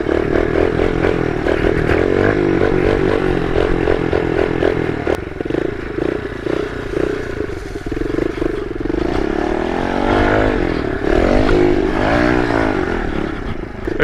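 A small pit bike engine revs and rattles continuously through a ride on a playground, steady and loud with rising and falling pitch and clattering from the little bike, no talking over it.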